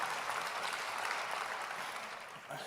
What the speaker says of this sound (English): Will you clap your hands for all of our partners